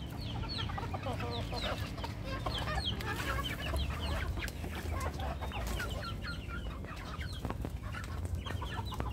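Chickens cluck steadily and busily outdoors just after being let out of their coop, a dense overlapping chorus of fowl calls that keeps going without a break at moderate closeness.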